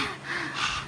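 A voice imitates heavy panting, a single short breathy gasp, close and fairly soft.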